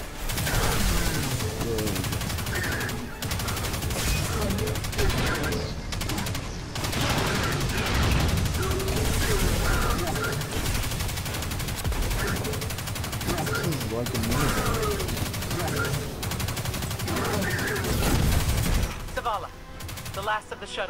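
The Risk Runner exotic submachine gun in Destiny 2 fires almost nonstop, a dense and loud automatic rattle mixed with game effects and occasional voices underneath.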